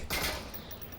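Gunfire from a rifle aimed at a wall in the Onward VR shooter, a dense burst of shots early on that trails into echoing, noisy game ambience at moderate volume.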